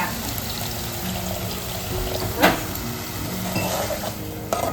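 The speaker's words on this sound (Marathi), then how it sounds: "आपण थोडंसं पाणी ॲड करणार आहोत ग्रेव्ही शिजायसाठी" Water is added to a simmering dried bombil (Bombay duck) gravy and stirred in the pan: a low steady sizzle with a brief splashing pour midway and scraping stir sounds, close by and with no talking.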